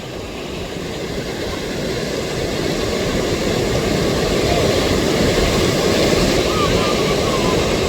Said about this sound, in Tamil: அக்கராயன் குளத்தின் தண்ணி வந்து இதாலான் வழியே போகுது பாருங்க.